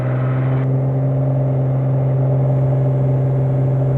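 Small airplane engine during its run-up before takeoff, a loud steady droning hum with strong even tones, continuous and close inside the cabin, with no talking.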